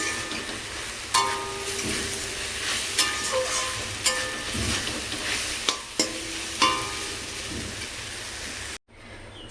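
Water spinach (kalmi shaak) sizzles in a pan, a steady close frying hiss broken by repeated sharp clicks and scrapes of a spatula stirring.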